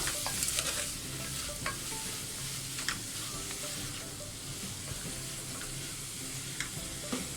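Onions sauté in a pan for a pressure cooker biryani, sizzling steadily, loud and close, while a utensil stirs them in occasional scraping strokes; no one speaks.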